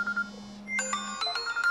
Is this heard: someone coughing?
no